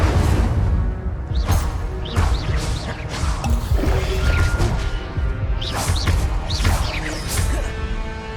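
The Incendio fire spell in Hogwarts Legacy bursts out in repeated whooshing, crackling blasts and impacts, dense and loud over layered game sound effects.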